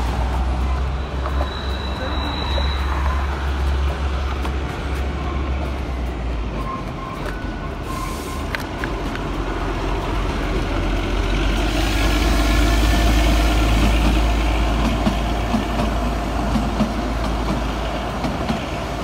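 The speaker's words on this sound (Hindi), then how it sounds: "देखा कि वहाँ से छोटी ट्रेन आ रही है" A small toy train runs on the mountain railway near Kasauli, giving a steady low rumble and engine drone close by that swells as it passes, with a brief whistle-like tone early on.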